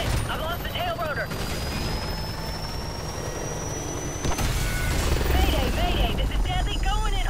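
A Cobra helicopter in Call of Duty Modern Warfare after losing its tail rotor and going down: a steady rotor and engine drone with a rising whine, then a louder rumble toward the end, under radio chatter.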